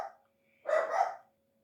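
Dogs barking in a short burst of several quick overlapping barks at moderate distance, following a brief earlier sound, with a faint steady hum underneath.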